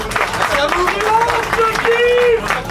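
A crowd at a CEFL football match applauds the best player of the match. The steady clapping and cheering mix with a voice over the noise.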